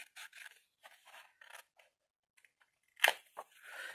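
Scissors cut along a drawn line on a craft box. The snips come in short, crisp bursts separated by brief pauses, close and fairly quiet, with a sharper scrape near the end and no speech.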